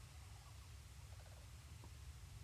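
Turkey-like bird in the Genshin Impact video game gives a short gobbling call, a quick rapid burst of warbling notes, faint over a steady low game ambience.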